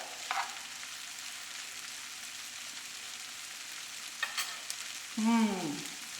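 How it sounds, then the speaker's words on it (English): Gallo pinto sautéing in a pan gives a steady, close frying sizzle throughout, with a couple of brief utensil scrapes and a short stir sound near the end. "at this point, we just keep sauteing just to blend all the flavors"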